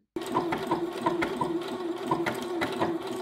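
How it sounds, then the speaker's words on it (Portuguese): A domestic sewing machine runs on its slowest speed setting with a chosen stitch, producing a steady, close mechanical hum and rhythmic needle clatter with no voices. "eu vou mostrar aqui as velocidades dessa máquina com o ponto escolhido"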